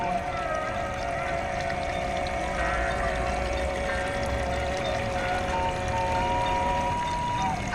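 A rural stream runs past rice paddies near Gunung Sawang, a steady, fairly quiet wash of flowing water with faint background tones and no clear speech over it.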